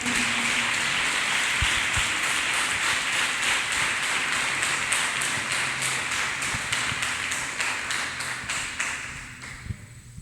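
A church congregation clapping hands in praise, a dense, steady wash of many hands with a regular rhythmic pulse, loud and sustained before thinning out toward the end, with no talking over it.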